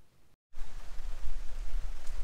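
Rain falls on a daily-driver car coated with Armor Shield IX ceramic paint coating, a dense steady patter that starts abruptly after a short gap and continues close and loud, no talk.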